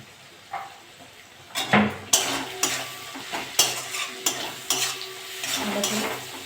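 Cumin powder and salt being mixed into a hot pan for a prawn and taro-leaf dish, a run of close, clear scraping and clinking strokes over a low sizzle, fairly loud, no voices.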